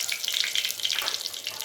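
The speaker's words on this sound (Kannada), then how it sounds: "ಈ ಕಡೆ ನಿಧಾನ ಸಾಂಬಾರು ಒಗ್ಗರಣೆಗೆ ಎಣ್ಣೆ ಹಾಕ್ತಾಯಿದ್ದಾರೆ." Oil sizzles in a pan as tempering for sambar begins, a bright crackling hiss close by with small pops and spatters, steady throughout and with no voices.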